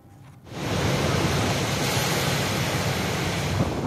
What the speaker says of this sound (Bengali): তীব্র বাতাস আর প্রবল বৃষ্টিপাত সহ সুপার টাইফুন রাগাসা মঙ্গলবার আঘাত হানে তাইওয়ানের বিভিন্ন অঞ্চলে